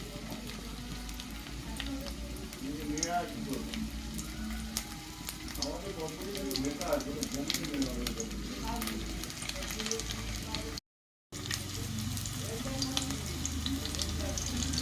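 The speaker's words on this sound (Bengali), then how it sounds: "তেল গরম হয়ে গেছে, এবার মাছের তেলের এইগুলো ছাড়া হচ্ছে।" Fish roe fritters frying steadily in hot oil, a dense continuous sizzle with faint stirring clatter throughout and a brief dropout near the end.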